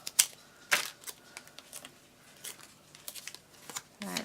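Scissors snip through craft material, giving a few short crisp cuts with gaps between them, close up and fairly quiet.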